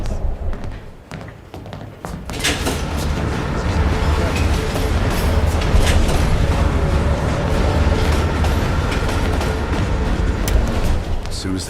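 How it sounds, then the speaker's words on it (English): A moving train rumbles in the Call of Duty Black Ops Cold War game, a dense, loud, continuous clatter and roar with thumps and taps that builds after a quieter opening and keeps going to the end. "Train's slowing down."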